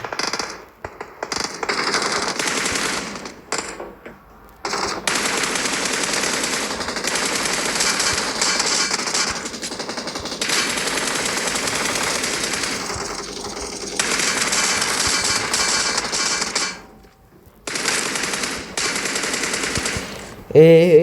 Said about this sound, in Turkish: Her yerden sıkıyorlar şu an.